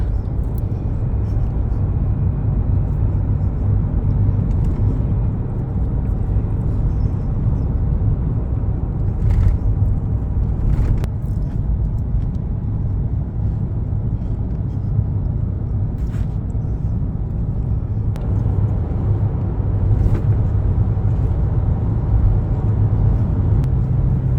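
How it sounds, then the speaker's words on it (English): Steady low rumble of road and engine noise inside a car driving a mountain road from Cradle Mountain toward Waratah, continuous and even, with a few faint knocks along the way. "We're driving right into the fog now."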